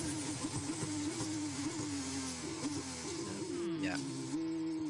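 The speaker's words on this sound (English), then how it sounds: "I just hear the engine fluttering a little bit there" A Formula 2 car engine drones with a wavering, fluttering pitch, rising and dipping, with a brief sharp sweep near the end, during practice at the 2025 Azerbaijan Grand Prix.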